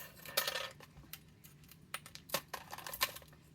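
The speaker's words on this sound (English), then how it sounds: "See how I can pick them all up with the end of my Tim Holtz scissors because I magnetized it somehow" Magnetized Tim Holtz scissors pick up small metal pieces, giving scattered light metallic clicks and tinkles, several brief taps spaced unevenly over a quiet background.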